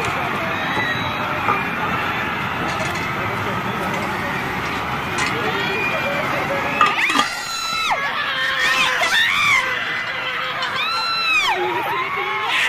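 Fans gathered at a live performance on the Wish 107.5 Bus keep up a dense, continuous crowd roar. After a few seconds it breaks into loud, high-pitched shrieks and screams rising and falling over the din.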